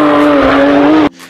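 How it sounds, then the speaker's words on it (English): Porsche 992 GT3 driven hard around the Nürburgring Nordschleife, a loud, close engine roar holding a steady high pitch for about a second before cutting off abruptly, with no talk. "This time, some video of the excellent looking and sounding 992 GT3 being pushed around green hell."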